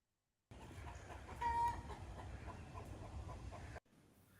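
Chickens clucking in a backyard vegetable garden, a steady low murmur of fowl with one brief, clearer call rising above the background before the sound cuts off abruptly.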